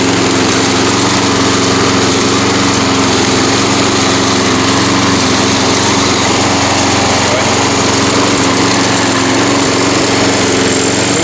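A Toro Recycler lawn mower engine runs steadily and loudly at idle, a constant droning rumble with no break throughout.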